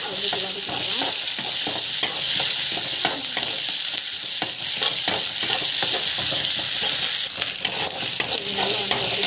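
Ginger sautéing in a hot pan, a loud continuous sizzle with frequent stirring scrapes and clinks, close by.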